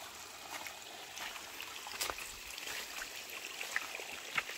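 Forest stream running over rocks, a steady watery rush with small trickles and splashes, moderately close and continuous with no voices.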